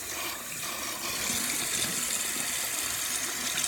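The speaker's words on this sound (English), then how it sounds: "right now I'm just going to wet my hair" A tap runs steadily while hair is wetted under cold water, a continuous close gush of flowing water with no talk.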